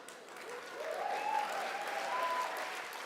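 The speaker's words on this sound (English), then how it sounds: "That one got a round of applause up the back there." Applause from a conference audience at an autumn party conference swells from a modest patter to a fuller round and stays steady, heard from a distance in a large hall.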